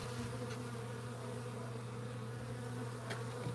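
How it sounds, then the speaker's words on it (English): Honey bees buzz steadily outside a queenless hive, a dense, continuous drone with a low hum running throughout, and a couple of brief brighter buzzes as individual insects pass close. "These bees do want to go home, but there is no queen."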